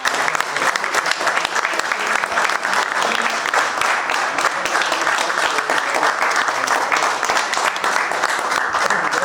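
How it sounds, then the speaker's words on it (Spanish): An audience at a club forum in Argentina applauds steadily and loudly for about nine seconds, dense clapping with no break and a faint crowd murmur underneath. "Y un aplauso, por favor."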